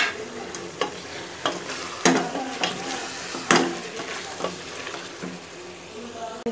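Mutton and potato curry with added spices being stirred in a pot, a steady sizzle broken by repeated spoon scrapes and knocks at an uneven rhythm, close and moderately loud.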